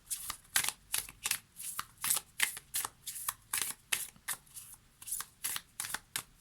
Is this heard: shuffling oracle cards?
yes